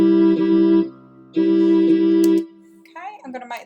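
Sibelius notation software plays back a simple waltz intro: two sustained synthetic chords, each lasting about a second with a short gap between, loud and clean, then a softer busier passage at the end.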